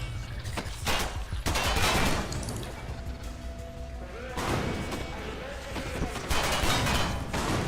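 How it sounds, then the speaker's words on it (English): Uzi submachine gun fire in the retro-futuristic sci-fi horror game Hail to the Rainbow, loud bursts of shots with impacts, with a player talking over and between them. "the Uzi is very powerful. Just a few hits and it takes him out."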